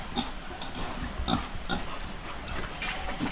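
Pigs grunt intermittently in short, irregular bursts against a noisy pen background, with no talking.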